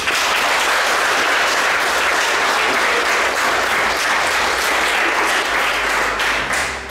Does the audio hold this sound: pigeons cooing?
no